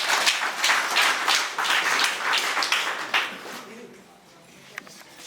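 An audience applauds to welcome the mayor at the opening of a civic assembly, with dense clapping that fades out after about four seconds.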